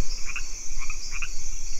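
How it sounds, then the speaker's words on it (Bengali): Frogs croak beside a rain-filled pond in three short rhythmic bursts of raspy calls, set against a constant high insect drone and steady outdoor hum. "ব্যাঙের দল ডাকাডাকির কাজ শুরু করে দিয়েছে"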